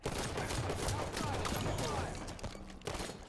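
Rapid gunfire from a Halo 2v2 match, a dense continuous burst of shots and explosions filling the moment, loud and close with game effects layered over it.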